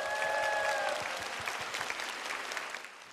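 Concert audience at a Notre-Dame de Paris musical performance applauds steadily for about three seconds, a dense wash of clapping that gradually thins toward the end, with a brief sustained tone near the start.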